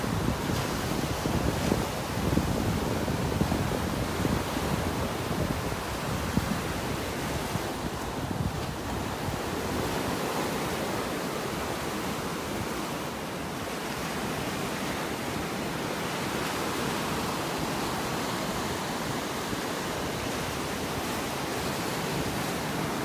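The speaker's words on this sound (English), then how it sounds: "The waves are just incredible this morning." Surf breaks continuously along a Gulf Coast beach in North Naples, Florida, on a rough morning, a steady loud wash of rolling waves with wind noise over the microphone and no voices.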